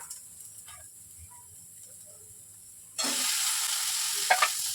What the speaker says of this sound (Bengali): এখন এখানে দিয়ে দেব ঝিঙা